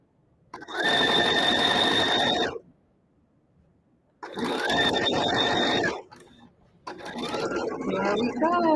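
A sewing machine backstitches a quilt binding in three steady whirring runs, each a couple of seconds long, separated by short pauses, close and loud.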